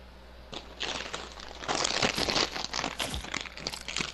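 Cheetos being crunched close to a microphone during a Fortnite session, a run of sharp, crackly bites and crinkles that grow busier and louder after the first half second and keep going without talk.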